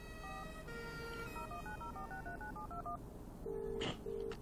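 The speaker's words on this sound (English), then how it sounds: "Perhaps I should make a call." A telephone is dialed in the video game Broken Sword 3: a quick run of keypad tones steps up and down, followed by a few longer electronic beeps over a steady low background hum.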